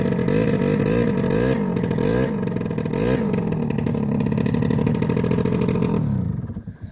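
A car engine revs loudly and close by in a Lithuanian village, with a steady, rough, pulsing roar held for about six seconds before it cuts off abruptly.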